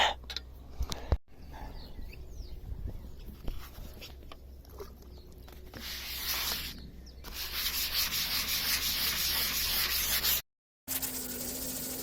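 Steady rubbing and scraping of wet-and-dry sandpaper keying paint, fairly close, continuing in rough strokes for several seconds with a brief pause near the end.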